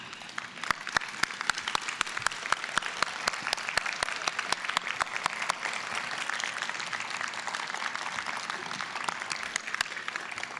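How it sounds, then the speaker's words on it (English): A standing ovation fills the hall at a college nursing program pinning ceremony, dense, sustained clapping from many hands with sharp individual claps popping out, steady and moderately distant for about ten seconds. "I would like for us to just give them a standing round of applause."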